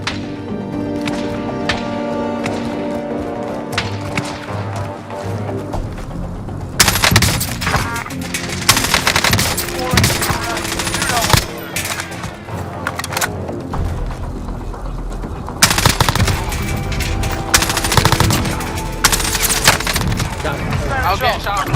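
FARA 83 assault rifle fire in Call of Duty Warzone (Cold War season 4): rapid automatic bursts crackle loudly in several stretches over game ambience, with a player talking over the shooting.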